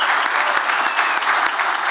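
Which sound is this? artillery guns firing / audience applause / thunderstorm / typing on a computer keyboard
audience applause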